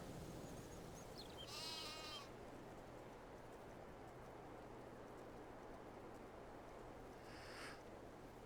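Sheep in the farm game Farming Simulator 22 give two separate bleats, an early wavering one and a fainter one near the end, over a low steady hum and soft rain-like hiss.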